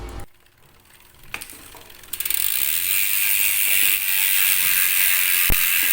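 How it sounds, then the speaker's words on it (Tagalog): The LDNC freehub on the 32-hole, 12x142 mm thru-axle rear hub of a 27.5-inch Sunpeed Eagle mountain bike spins up into a loud, continuous high buzzing ratchet after a few separate clicks, close up with no talk. "Hindi lang tunog mayaman yung LDNC hubs"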